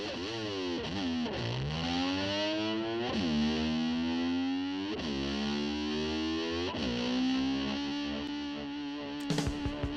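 A heavily distorted electric guitar imitates a revving motorcycle, with repeated swooping pitch bends that rise and fall like an engine being throttled. It plays loud and continuous without any voices.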